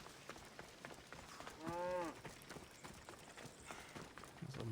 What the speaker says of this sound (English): There's a bull or a cow, whatever it was.